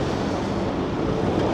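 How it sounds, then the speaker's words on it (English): Strong gusts of Storm Floris roar across the Blackpool seafront at a notoriously windy corner, a loud, steady rush of wind buffeting the microphone with no speech. "The gusts are quite bad"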